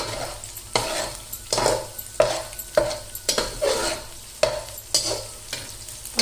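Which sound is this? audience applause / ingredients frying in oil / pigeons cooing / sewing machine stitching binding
ingredients frying in oil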